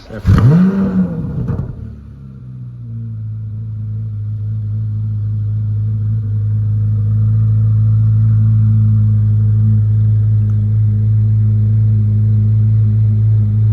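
A Chevrolet Corvette C8 Z06 engine cranks and fires with a loud burst, then settles into a steady, deep idle that grows slightly louder and holds close by.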